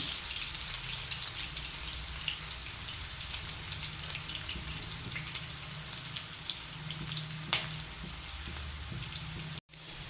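Sliced onions frying in a pan for a chicken curry, a soft continuous crackling sizzle with scattered pops, fairly quiet and steady with no voices.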